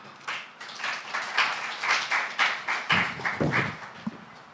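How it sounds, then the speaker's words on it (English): An audience at an academic and public-private partnership forum claps for a speaker. Distinct, fairly close handclaps in a steady rhythm rise and then thin out, with no talking over them. "Another round of applause to Dr. Ihud."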